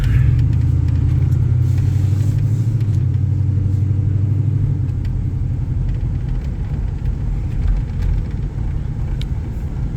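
A 1998 GMT400 pickup truck on new Cooper 295 tires idles with a loud, steady engine rumble. The engine swells in the first few seconds as the gas is stabbed, then settles to a lower, even drone with no talk.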